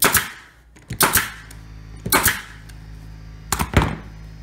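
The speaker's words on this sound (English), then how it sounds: "So just pull it nice and taut and staple it." A staple gun fires sharply into fabric being stretched over an ottoman, four loud close snaps spaced about a second apart, some doubled, with quiet handling noise in between.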